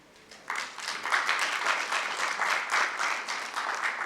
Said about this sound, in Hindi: जी हाँ, तालियां तो बनती हैं।